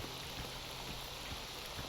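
Steady rain falls in the video game S.T.A.L.K.E.R. Anomaly near a military checkpoint, a constant even hiss with scattered soft drops, no voices.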